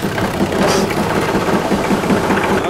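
A tractor engine runs after starting, giving a steady loud chugging idle that rattles on without a break and without voices.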